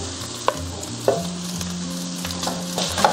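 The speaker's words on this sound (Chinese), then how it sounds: "炒这个米饭的话，最好是开大火，这样炒出来的米饭才香" Rice and mustard greens are stir-fried in a wok over high heat, with a continuous loud sizzle broken by several sharp spatula scrapes and clinks on the metal.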